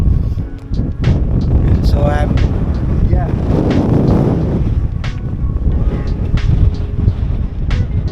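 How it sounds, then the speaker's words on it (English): Strong headwind buffets the microphone on a short outdoor test ride, a steady loud low roar running throughout with someone talking over it. "This is windy, man."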